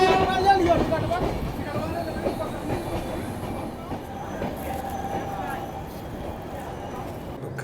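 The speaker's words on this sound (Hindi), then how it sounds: "तो ये है इंडियन रेलवेज में चलने वाली फास्टेस्ट अमृत भारत एक्सप्रेस" An Amrit Bharat Express on Indian Railways rumbles along with steady wheel clatter and occasional squeals, heard from aboard a nearby train while someone talks over the rolling noise.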